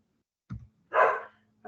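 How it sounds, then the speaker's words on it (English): Dogs barking at home in two short, sharp barks with a brief yip between them, fairly close and alone in an otherwise quiet room. "I really just need to go and see what my dogs are barking"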